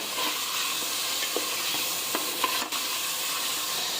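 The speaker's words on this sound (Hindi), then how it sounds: "अब इसके अंदर आधा किलो हमने चिकन ले ली थी, वो इसके अंदर डाल देंगे। बिस्मिल्लाह। इसको हम फ्राई कर लेंगे।" Half a kilo of chicken frying in hot oil in a pan for chicken shorba curry, a steady close sizzle and hiss with a few light stirring clicks, no talking.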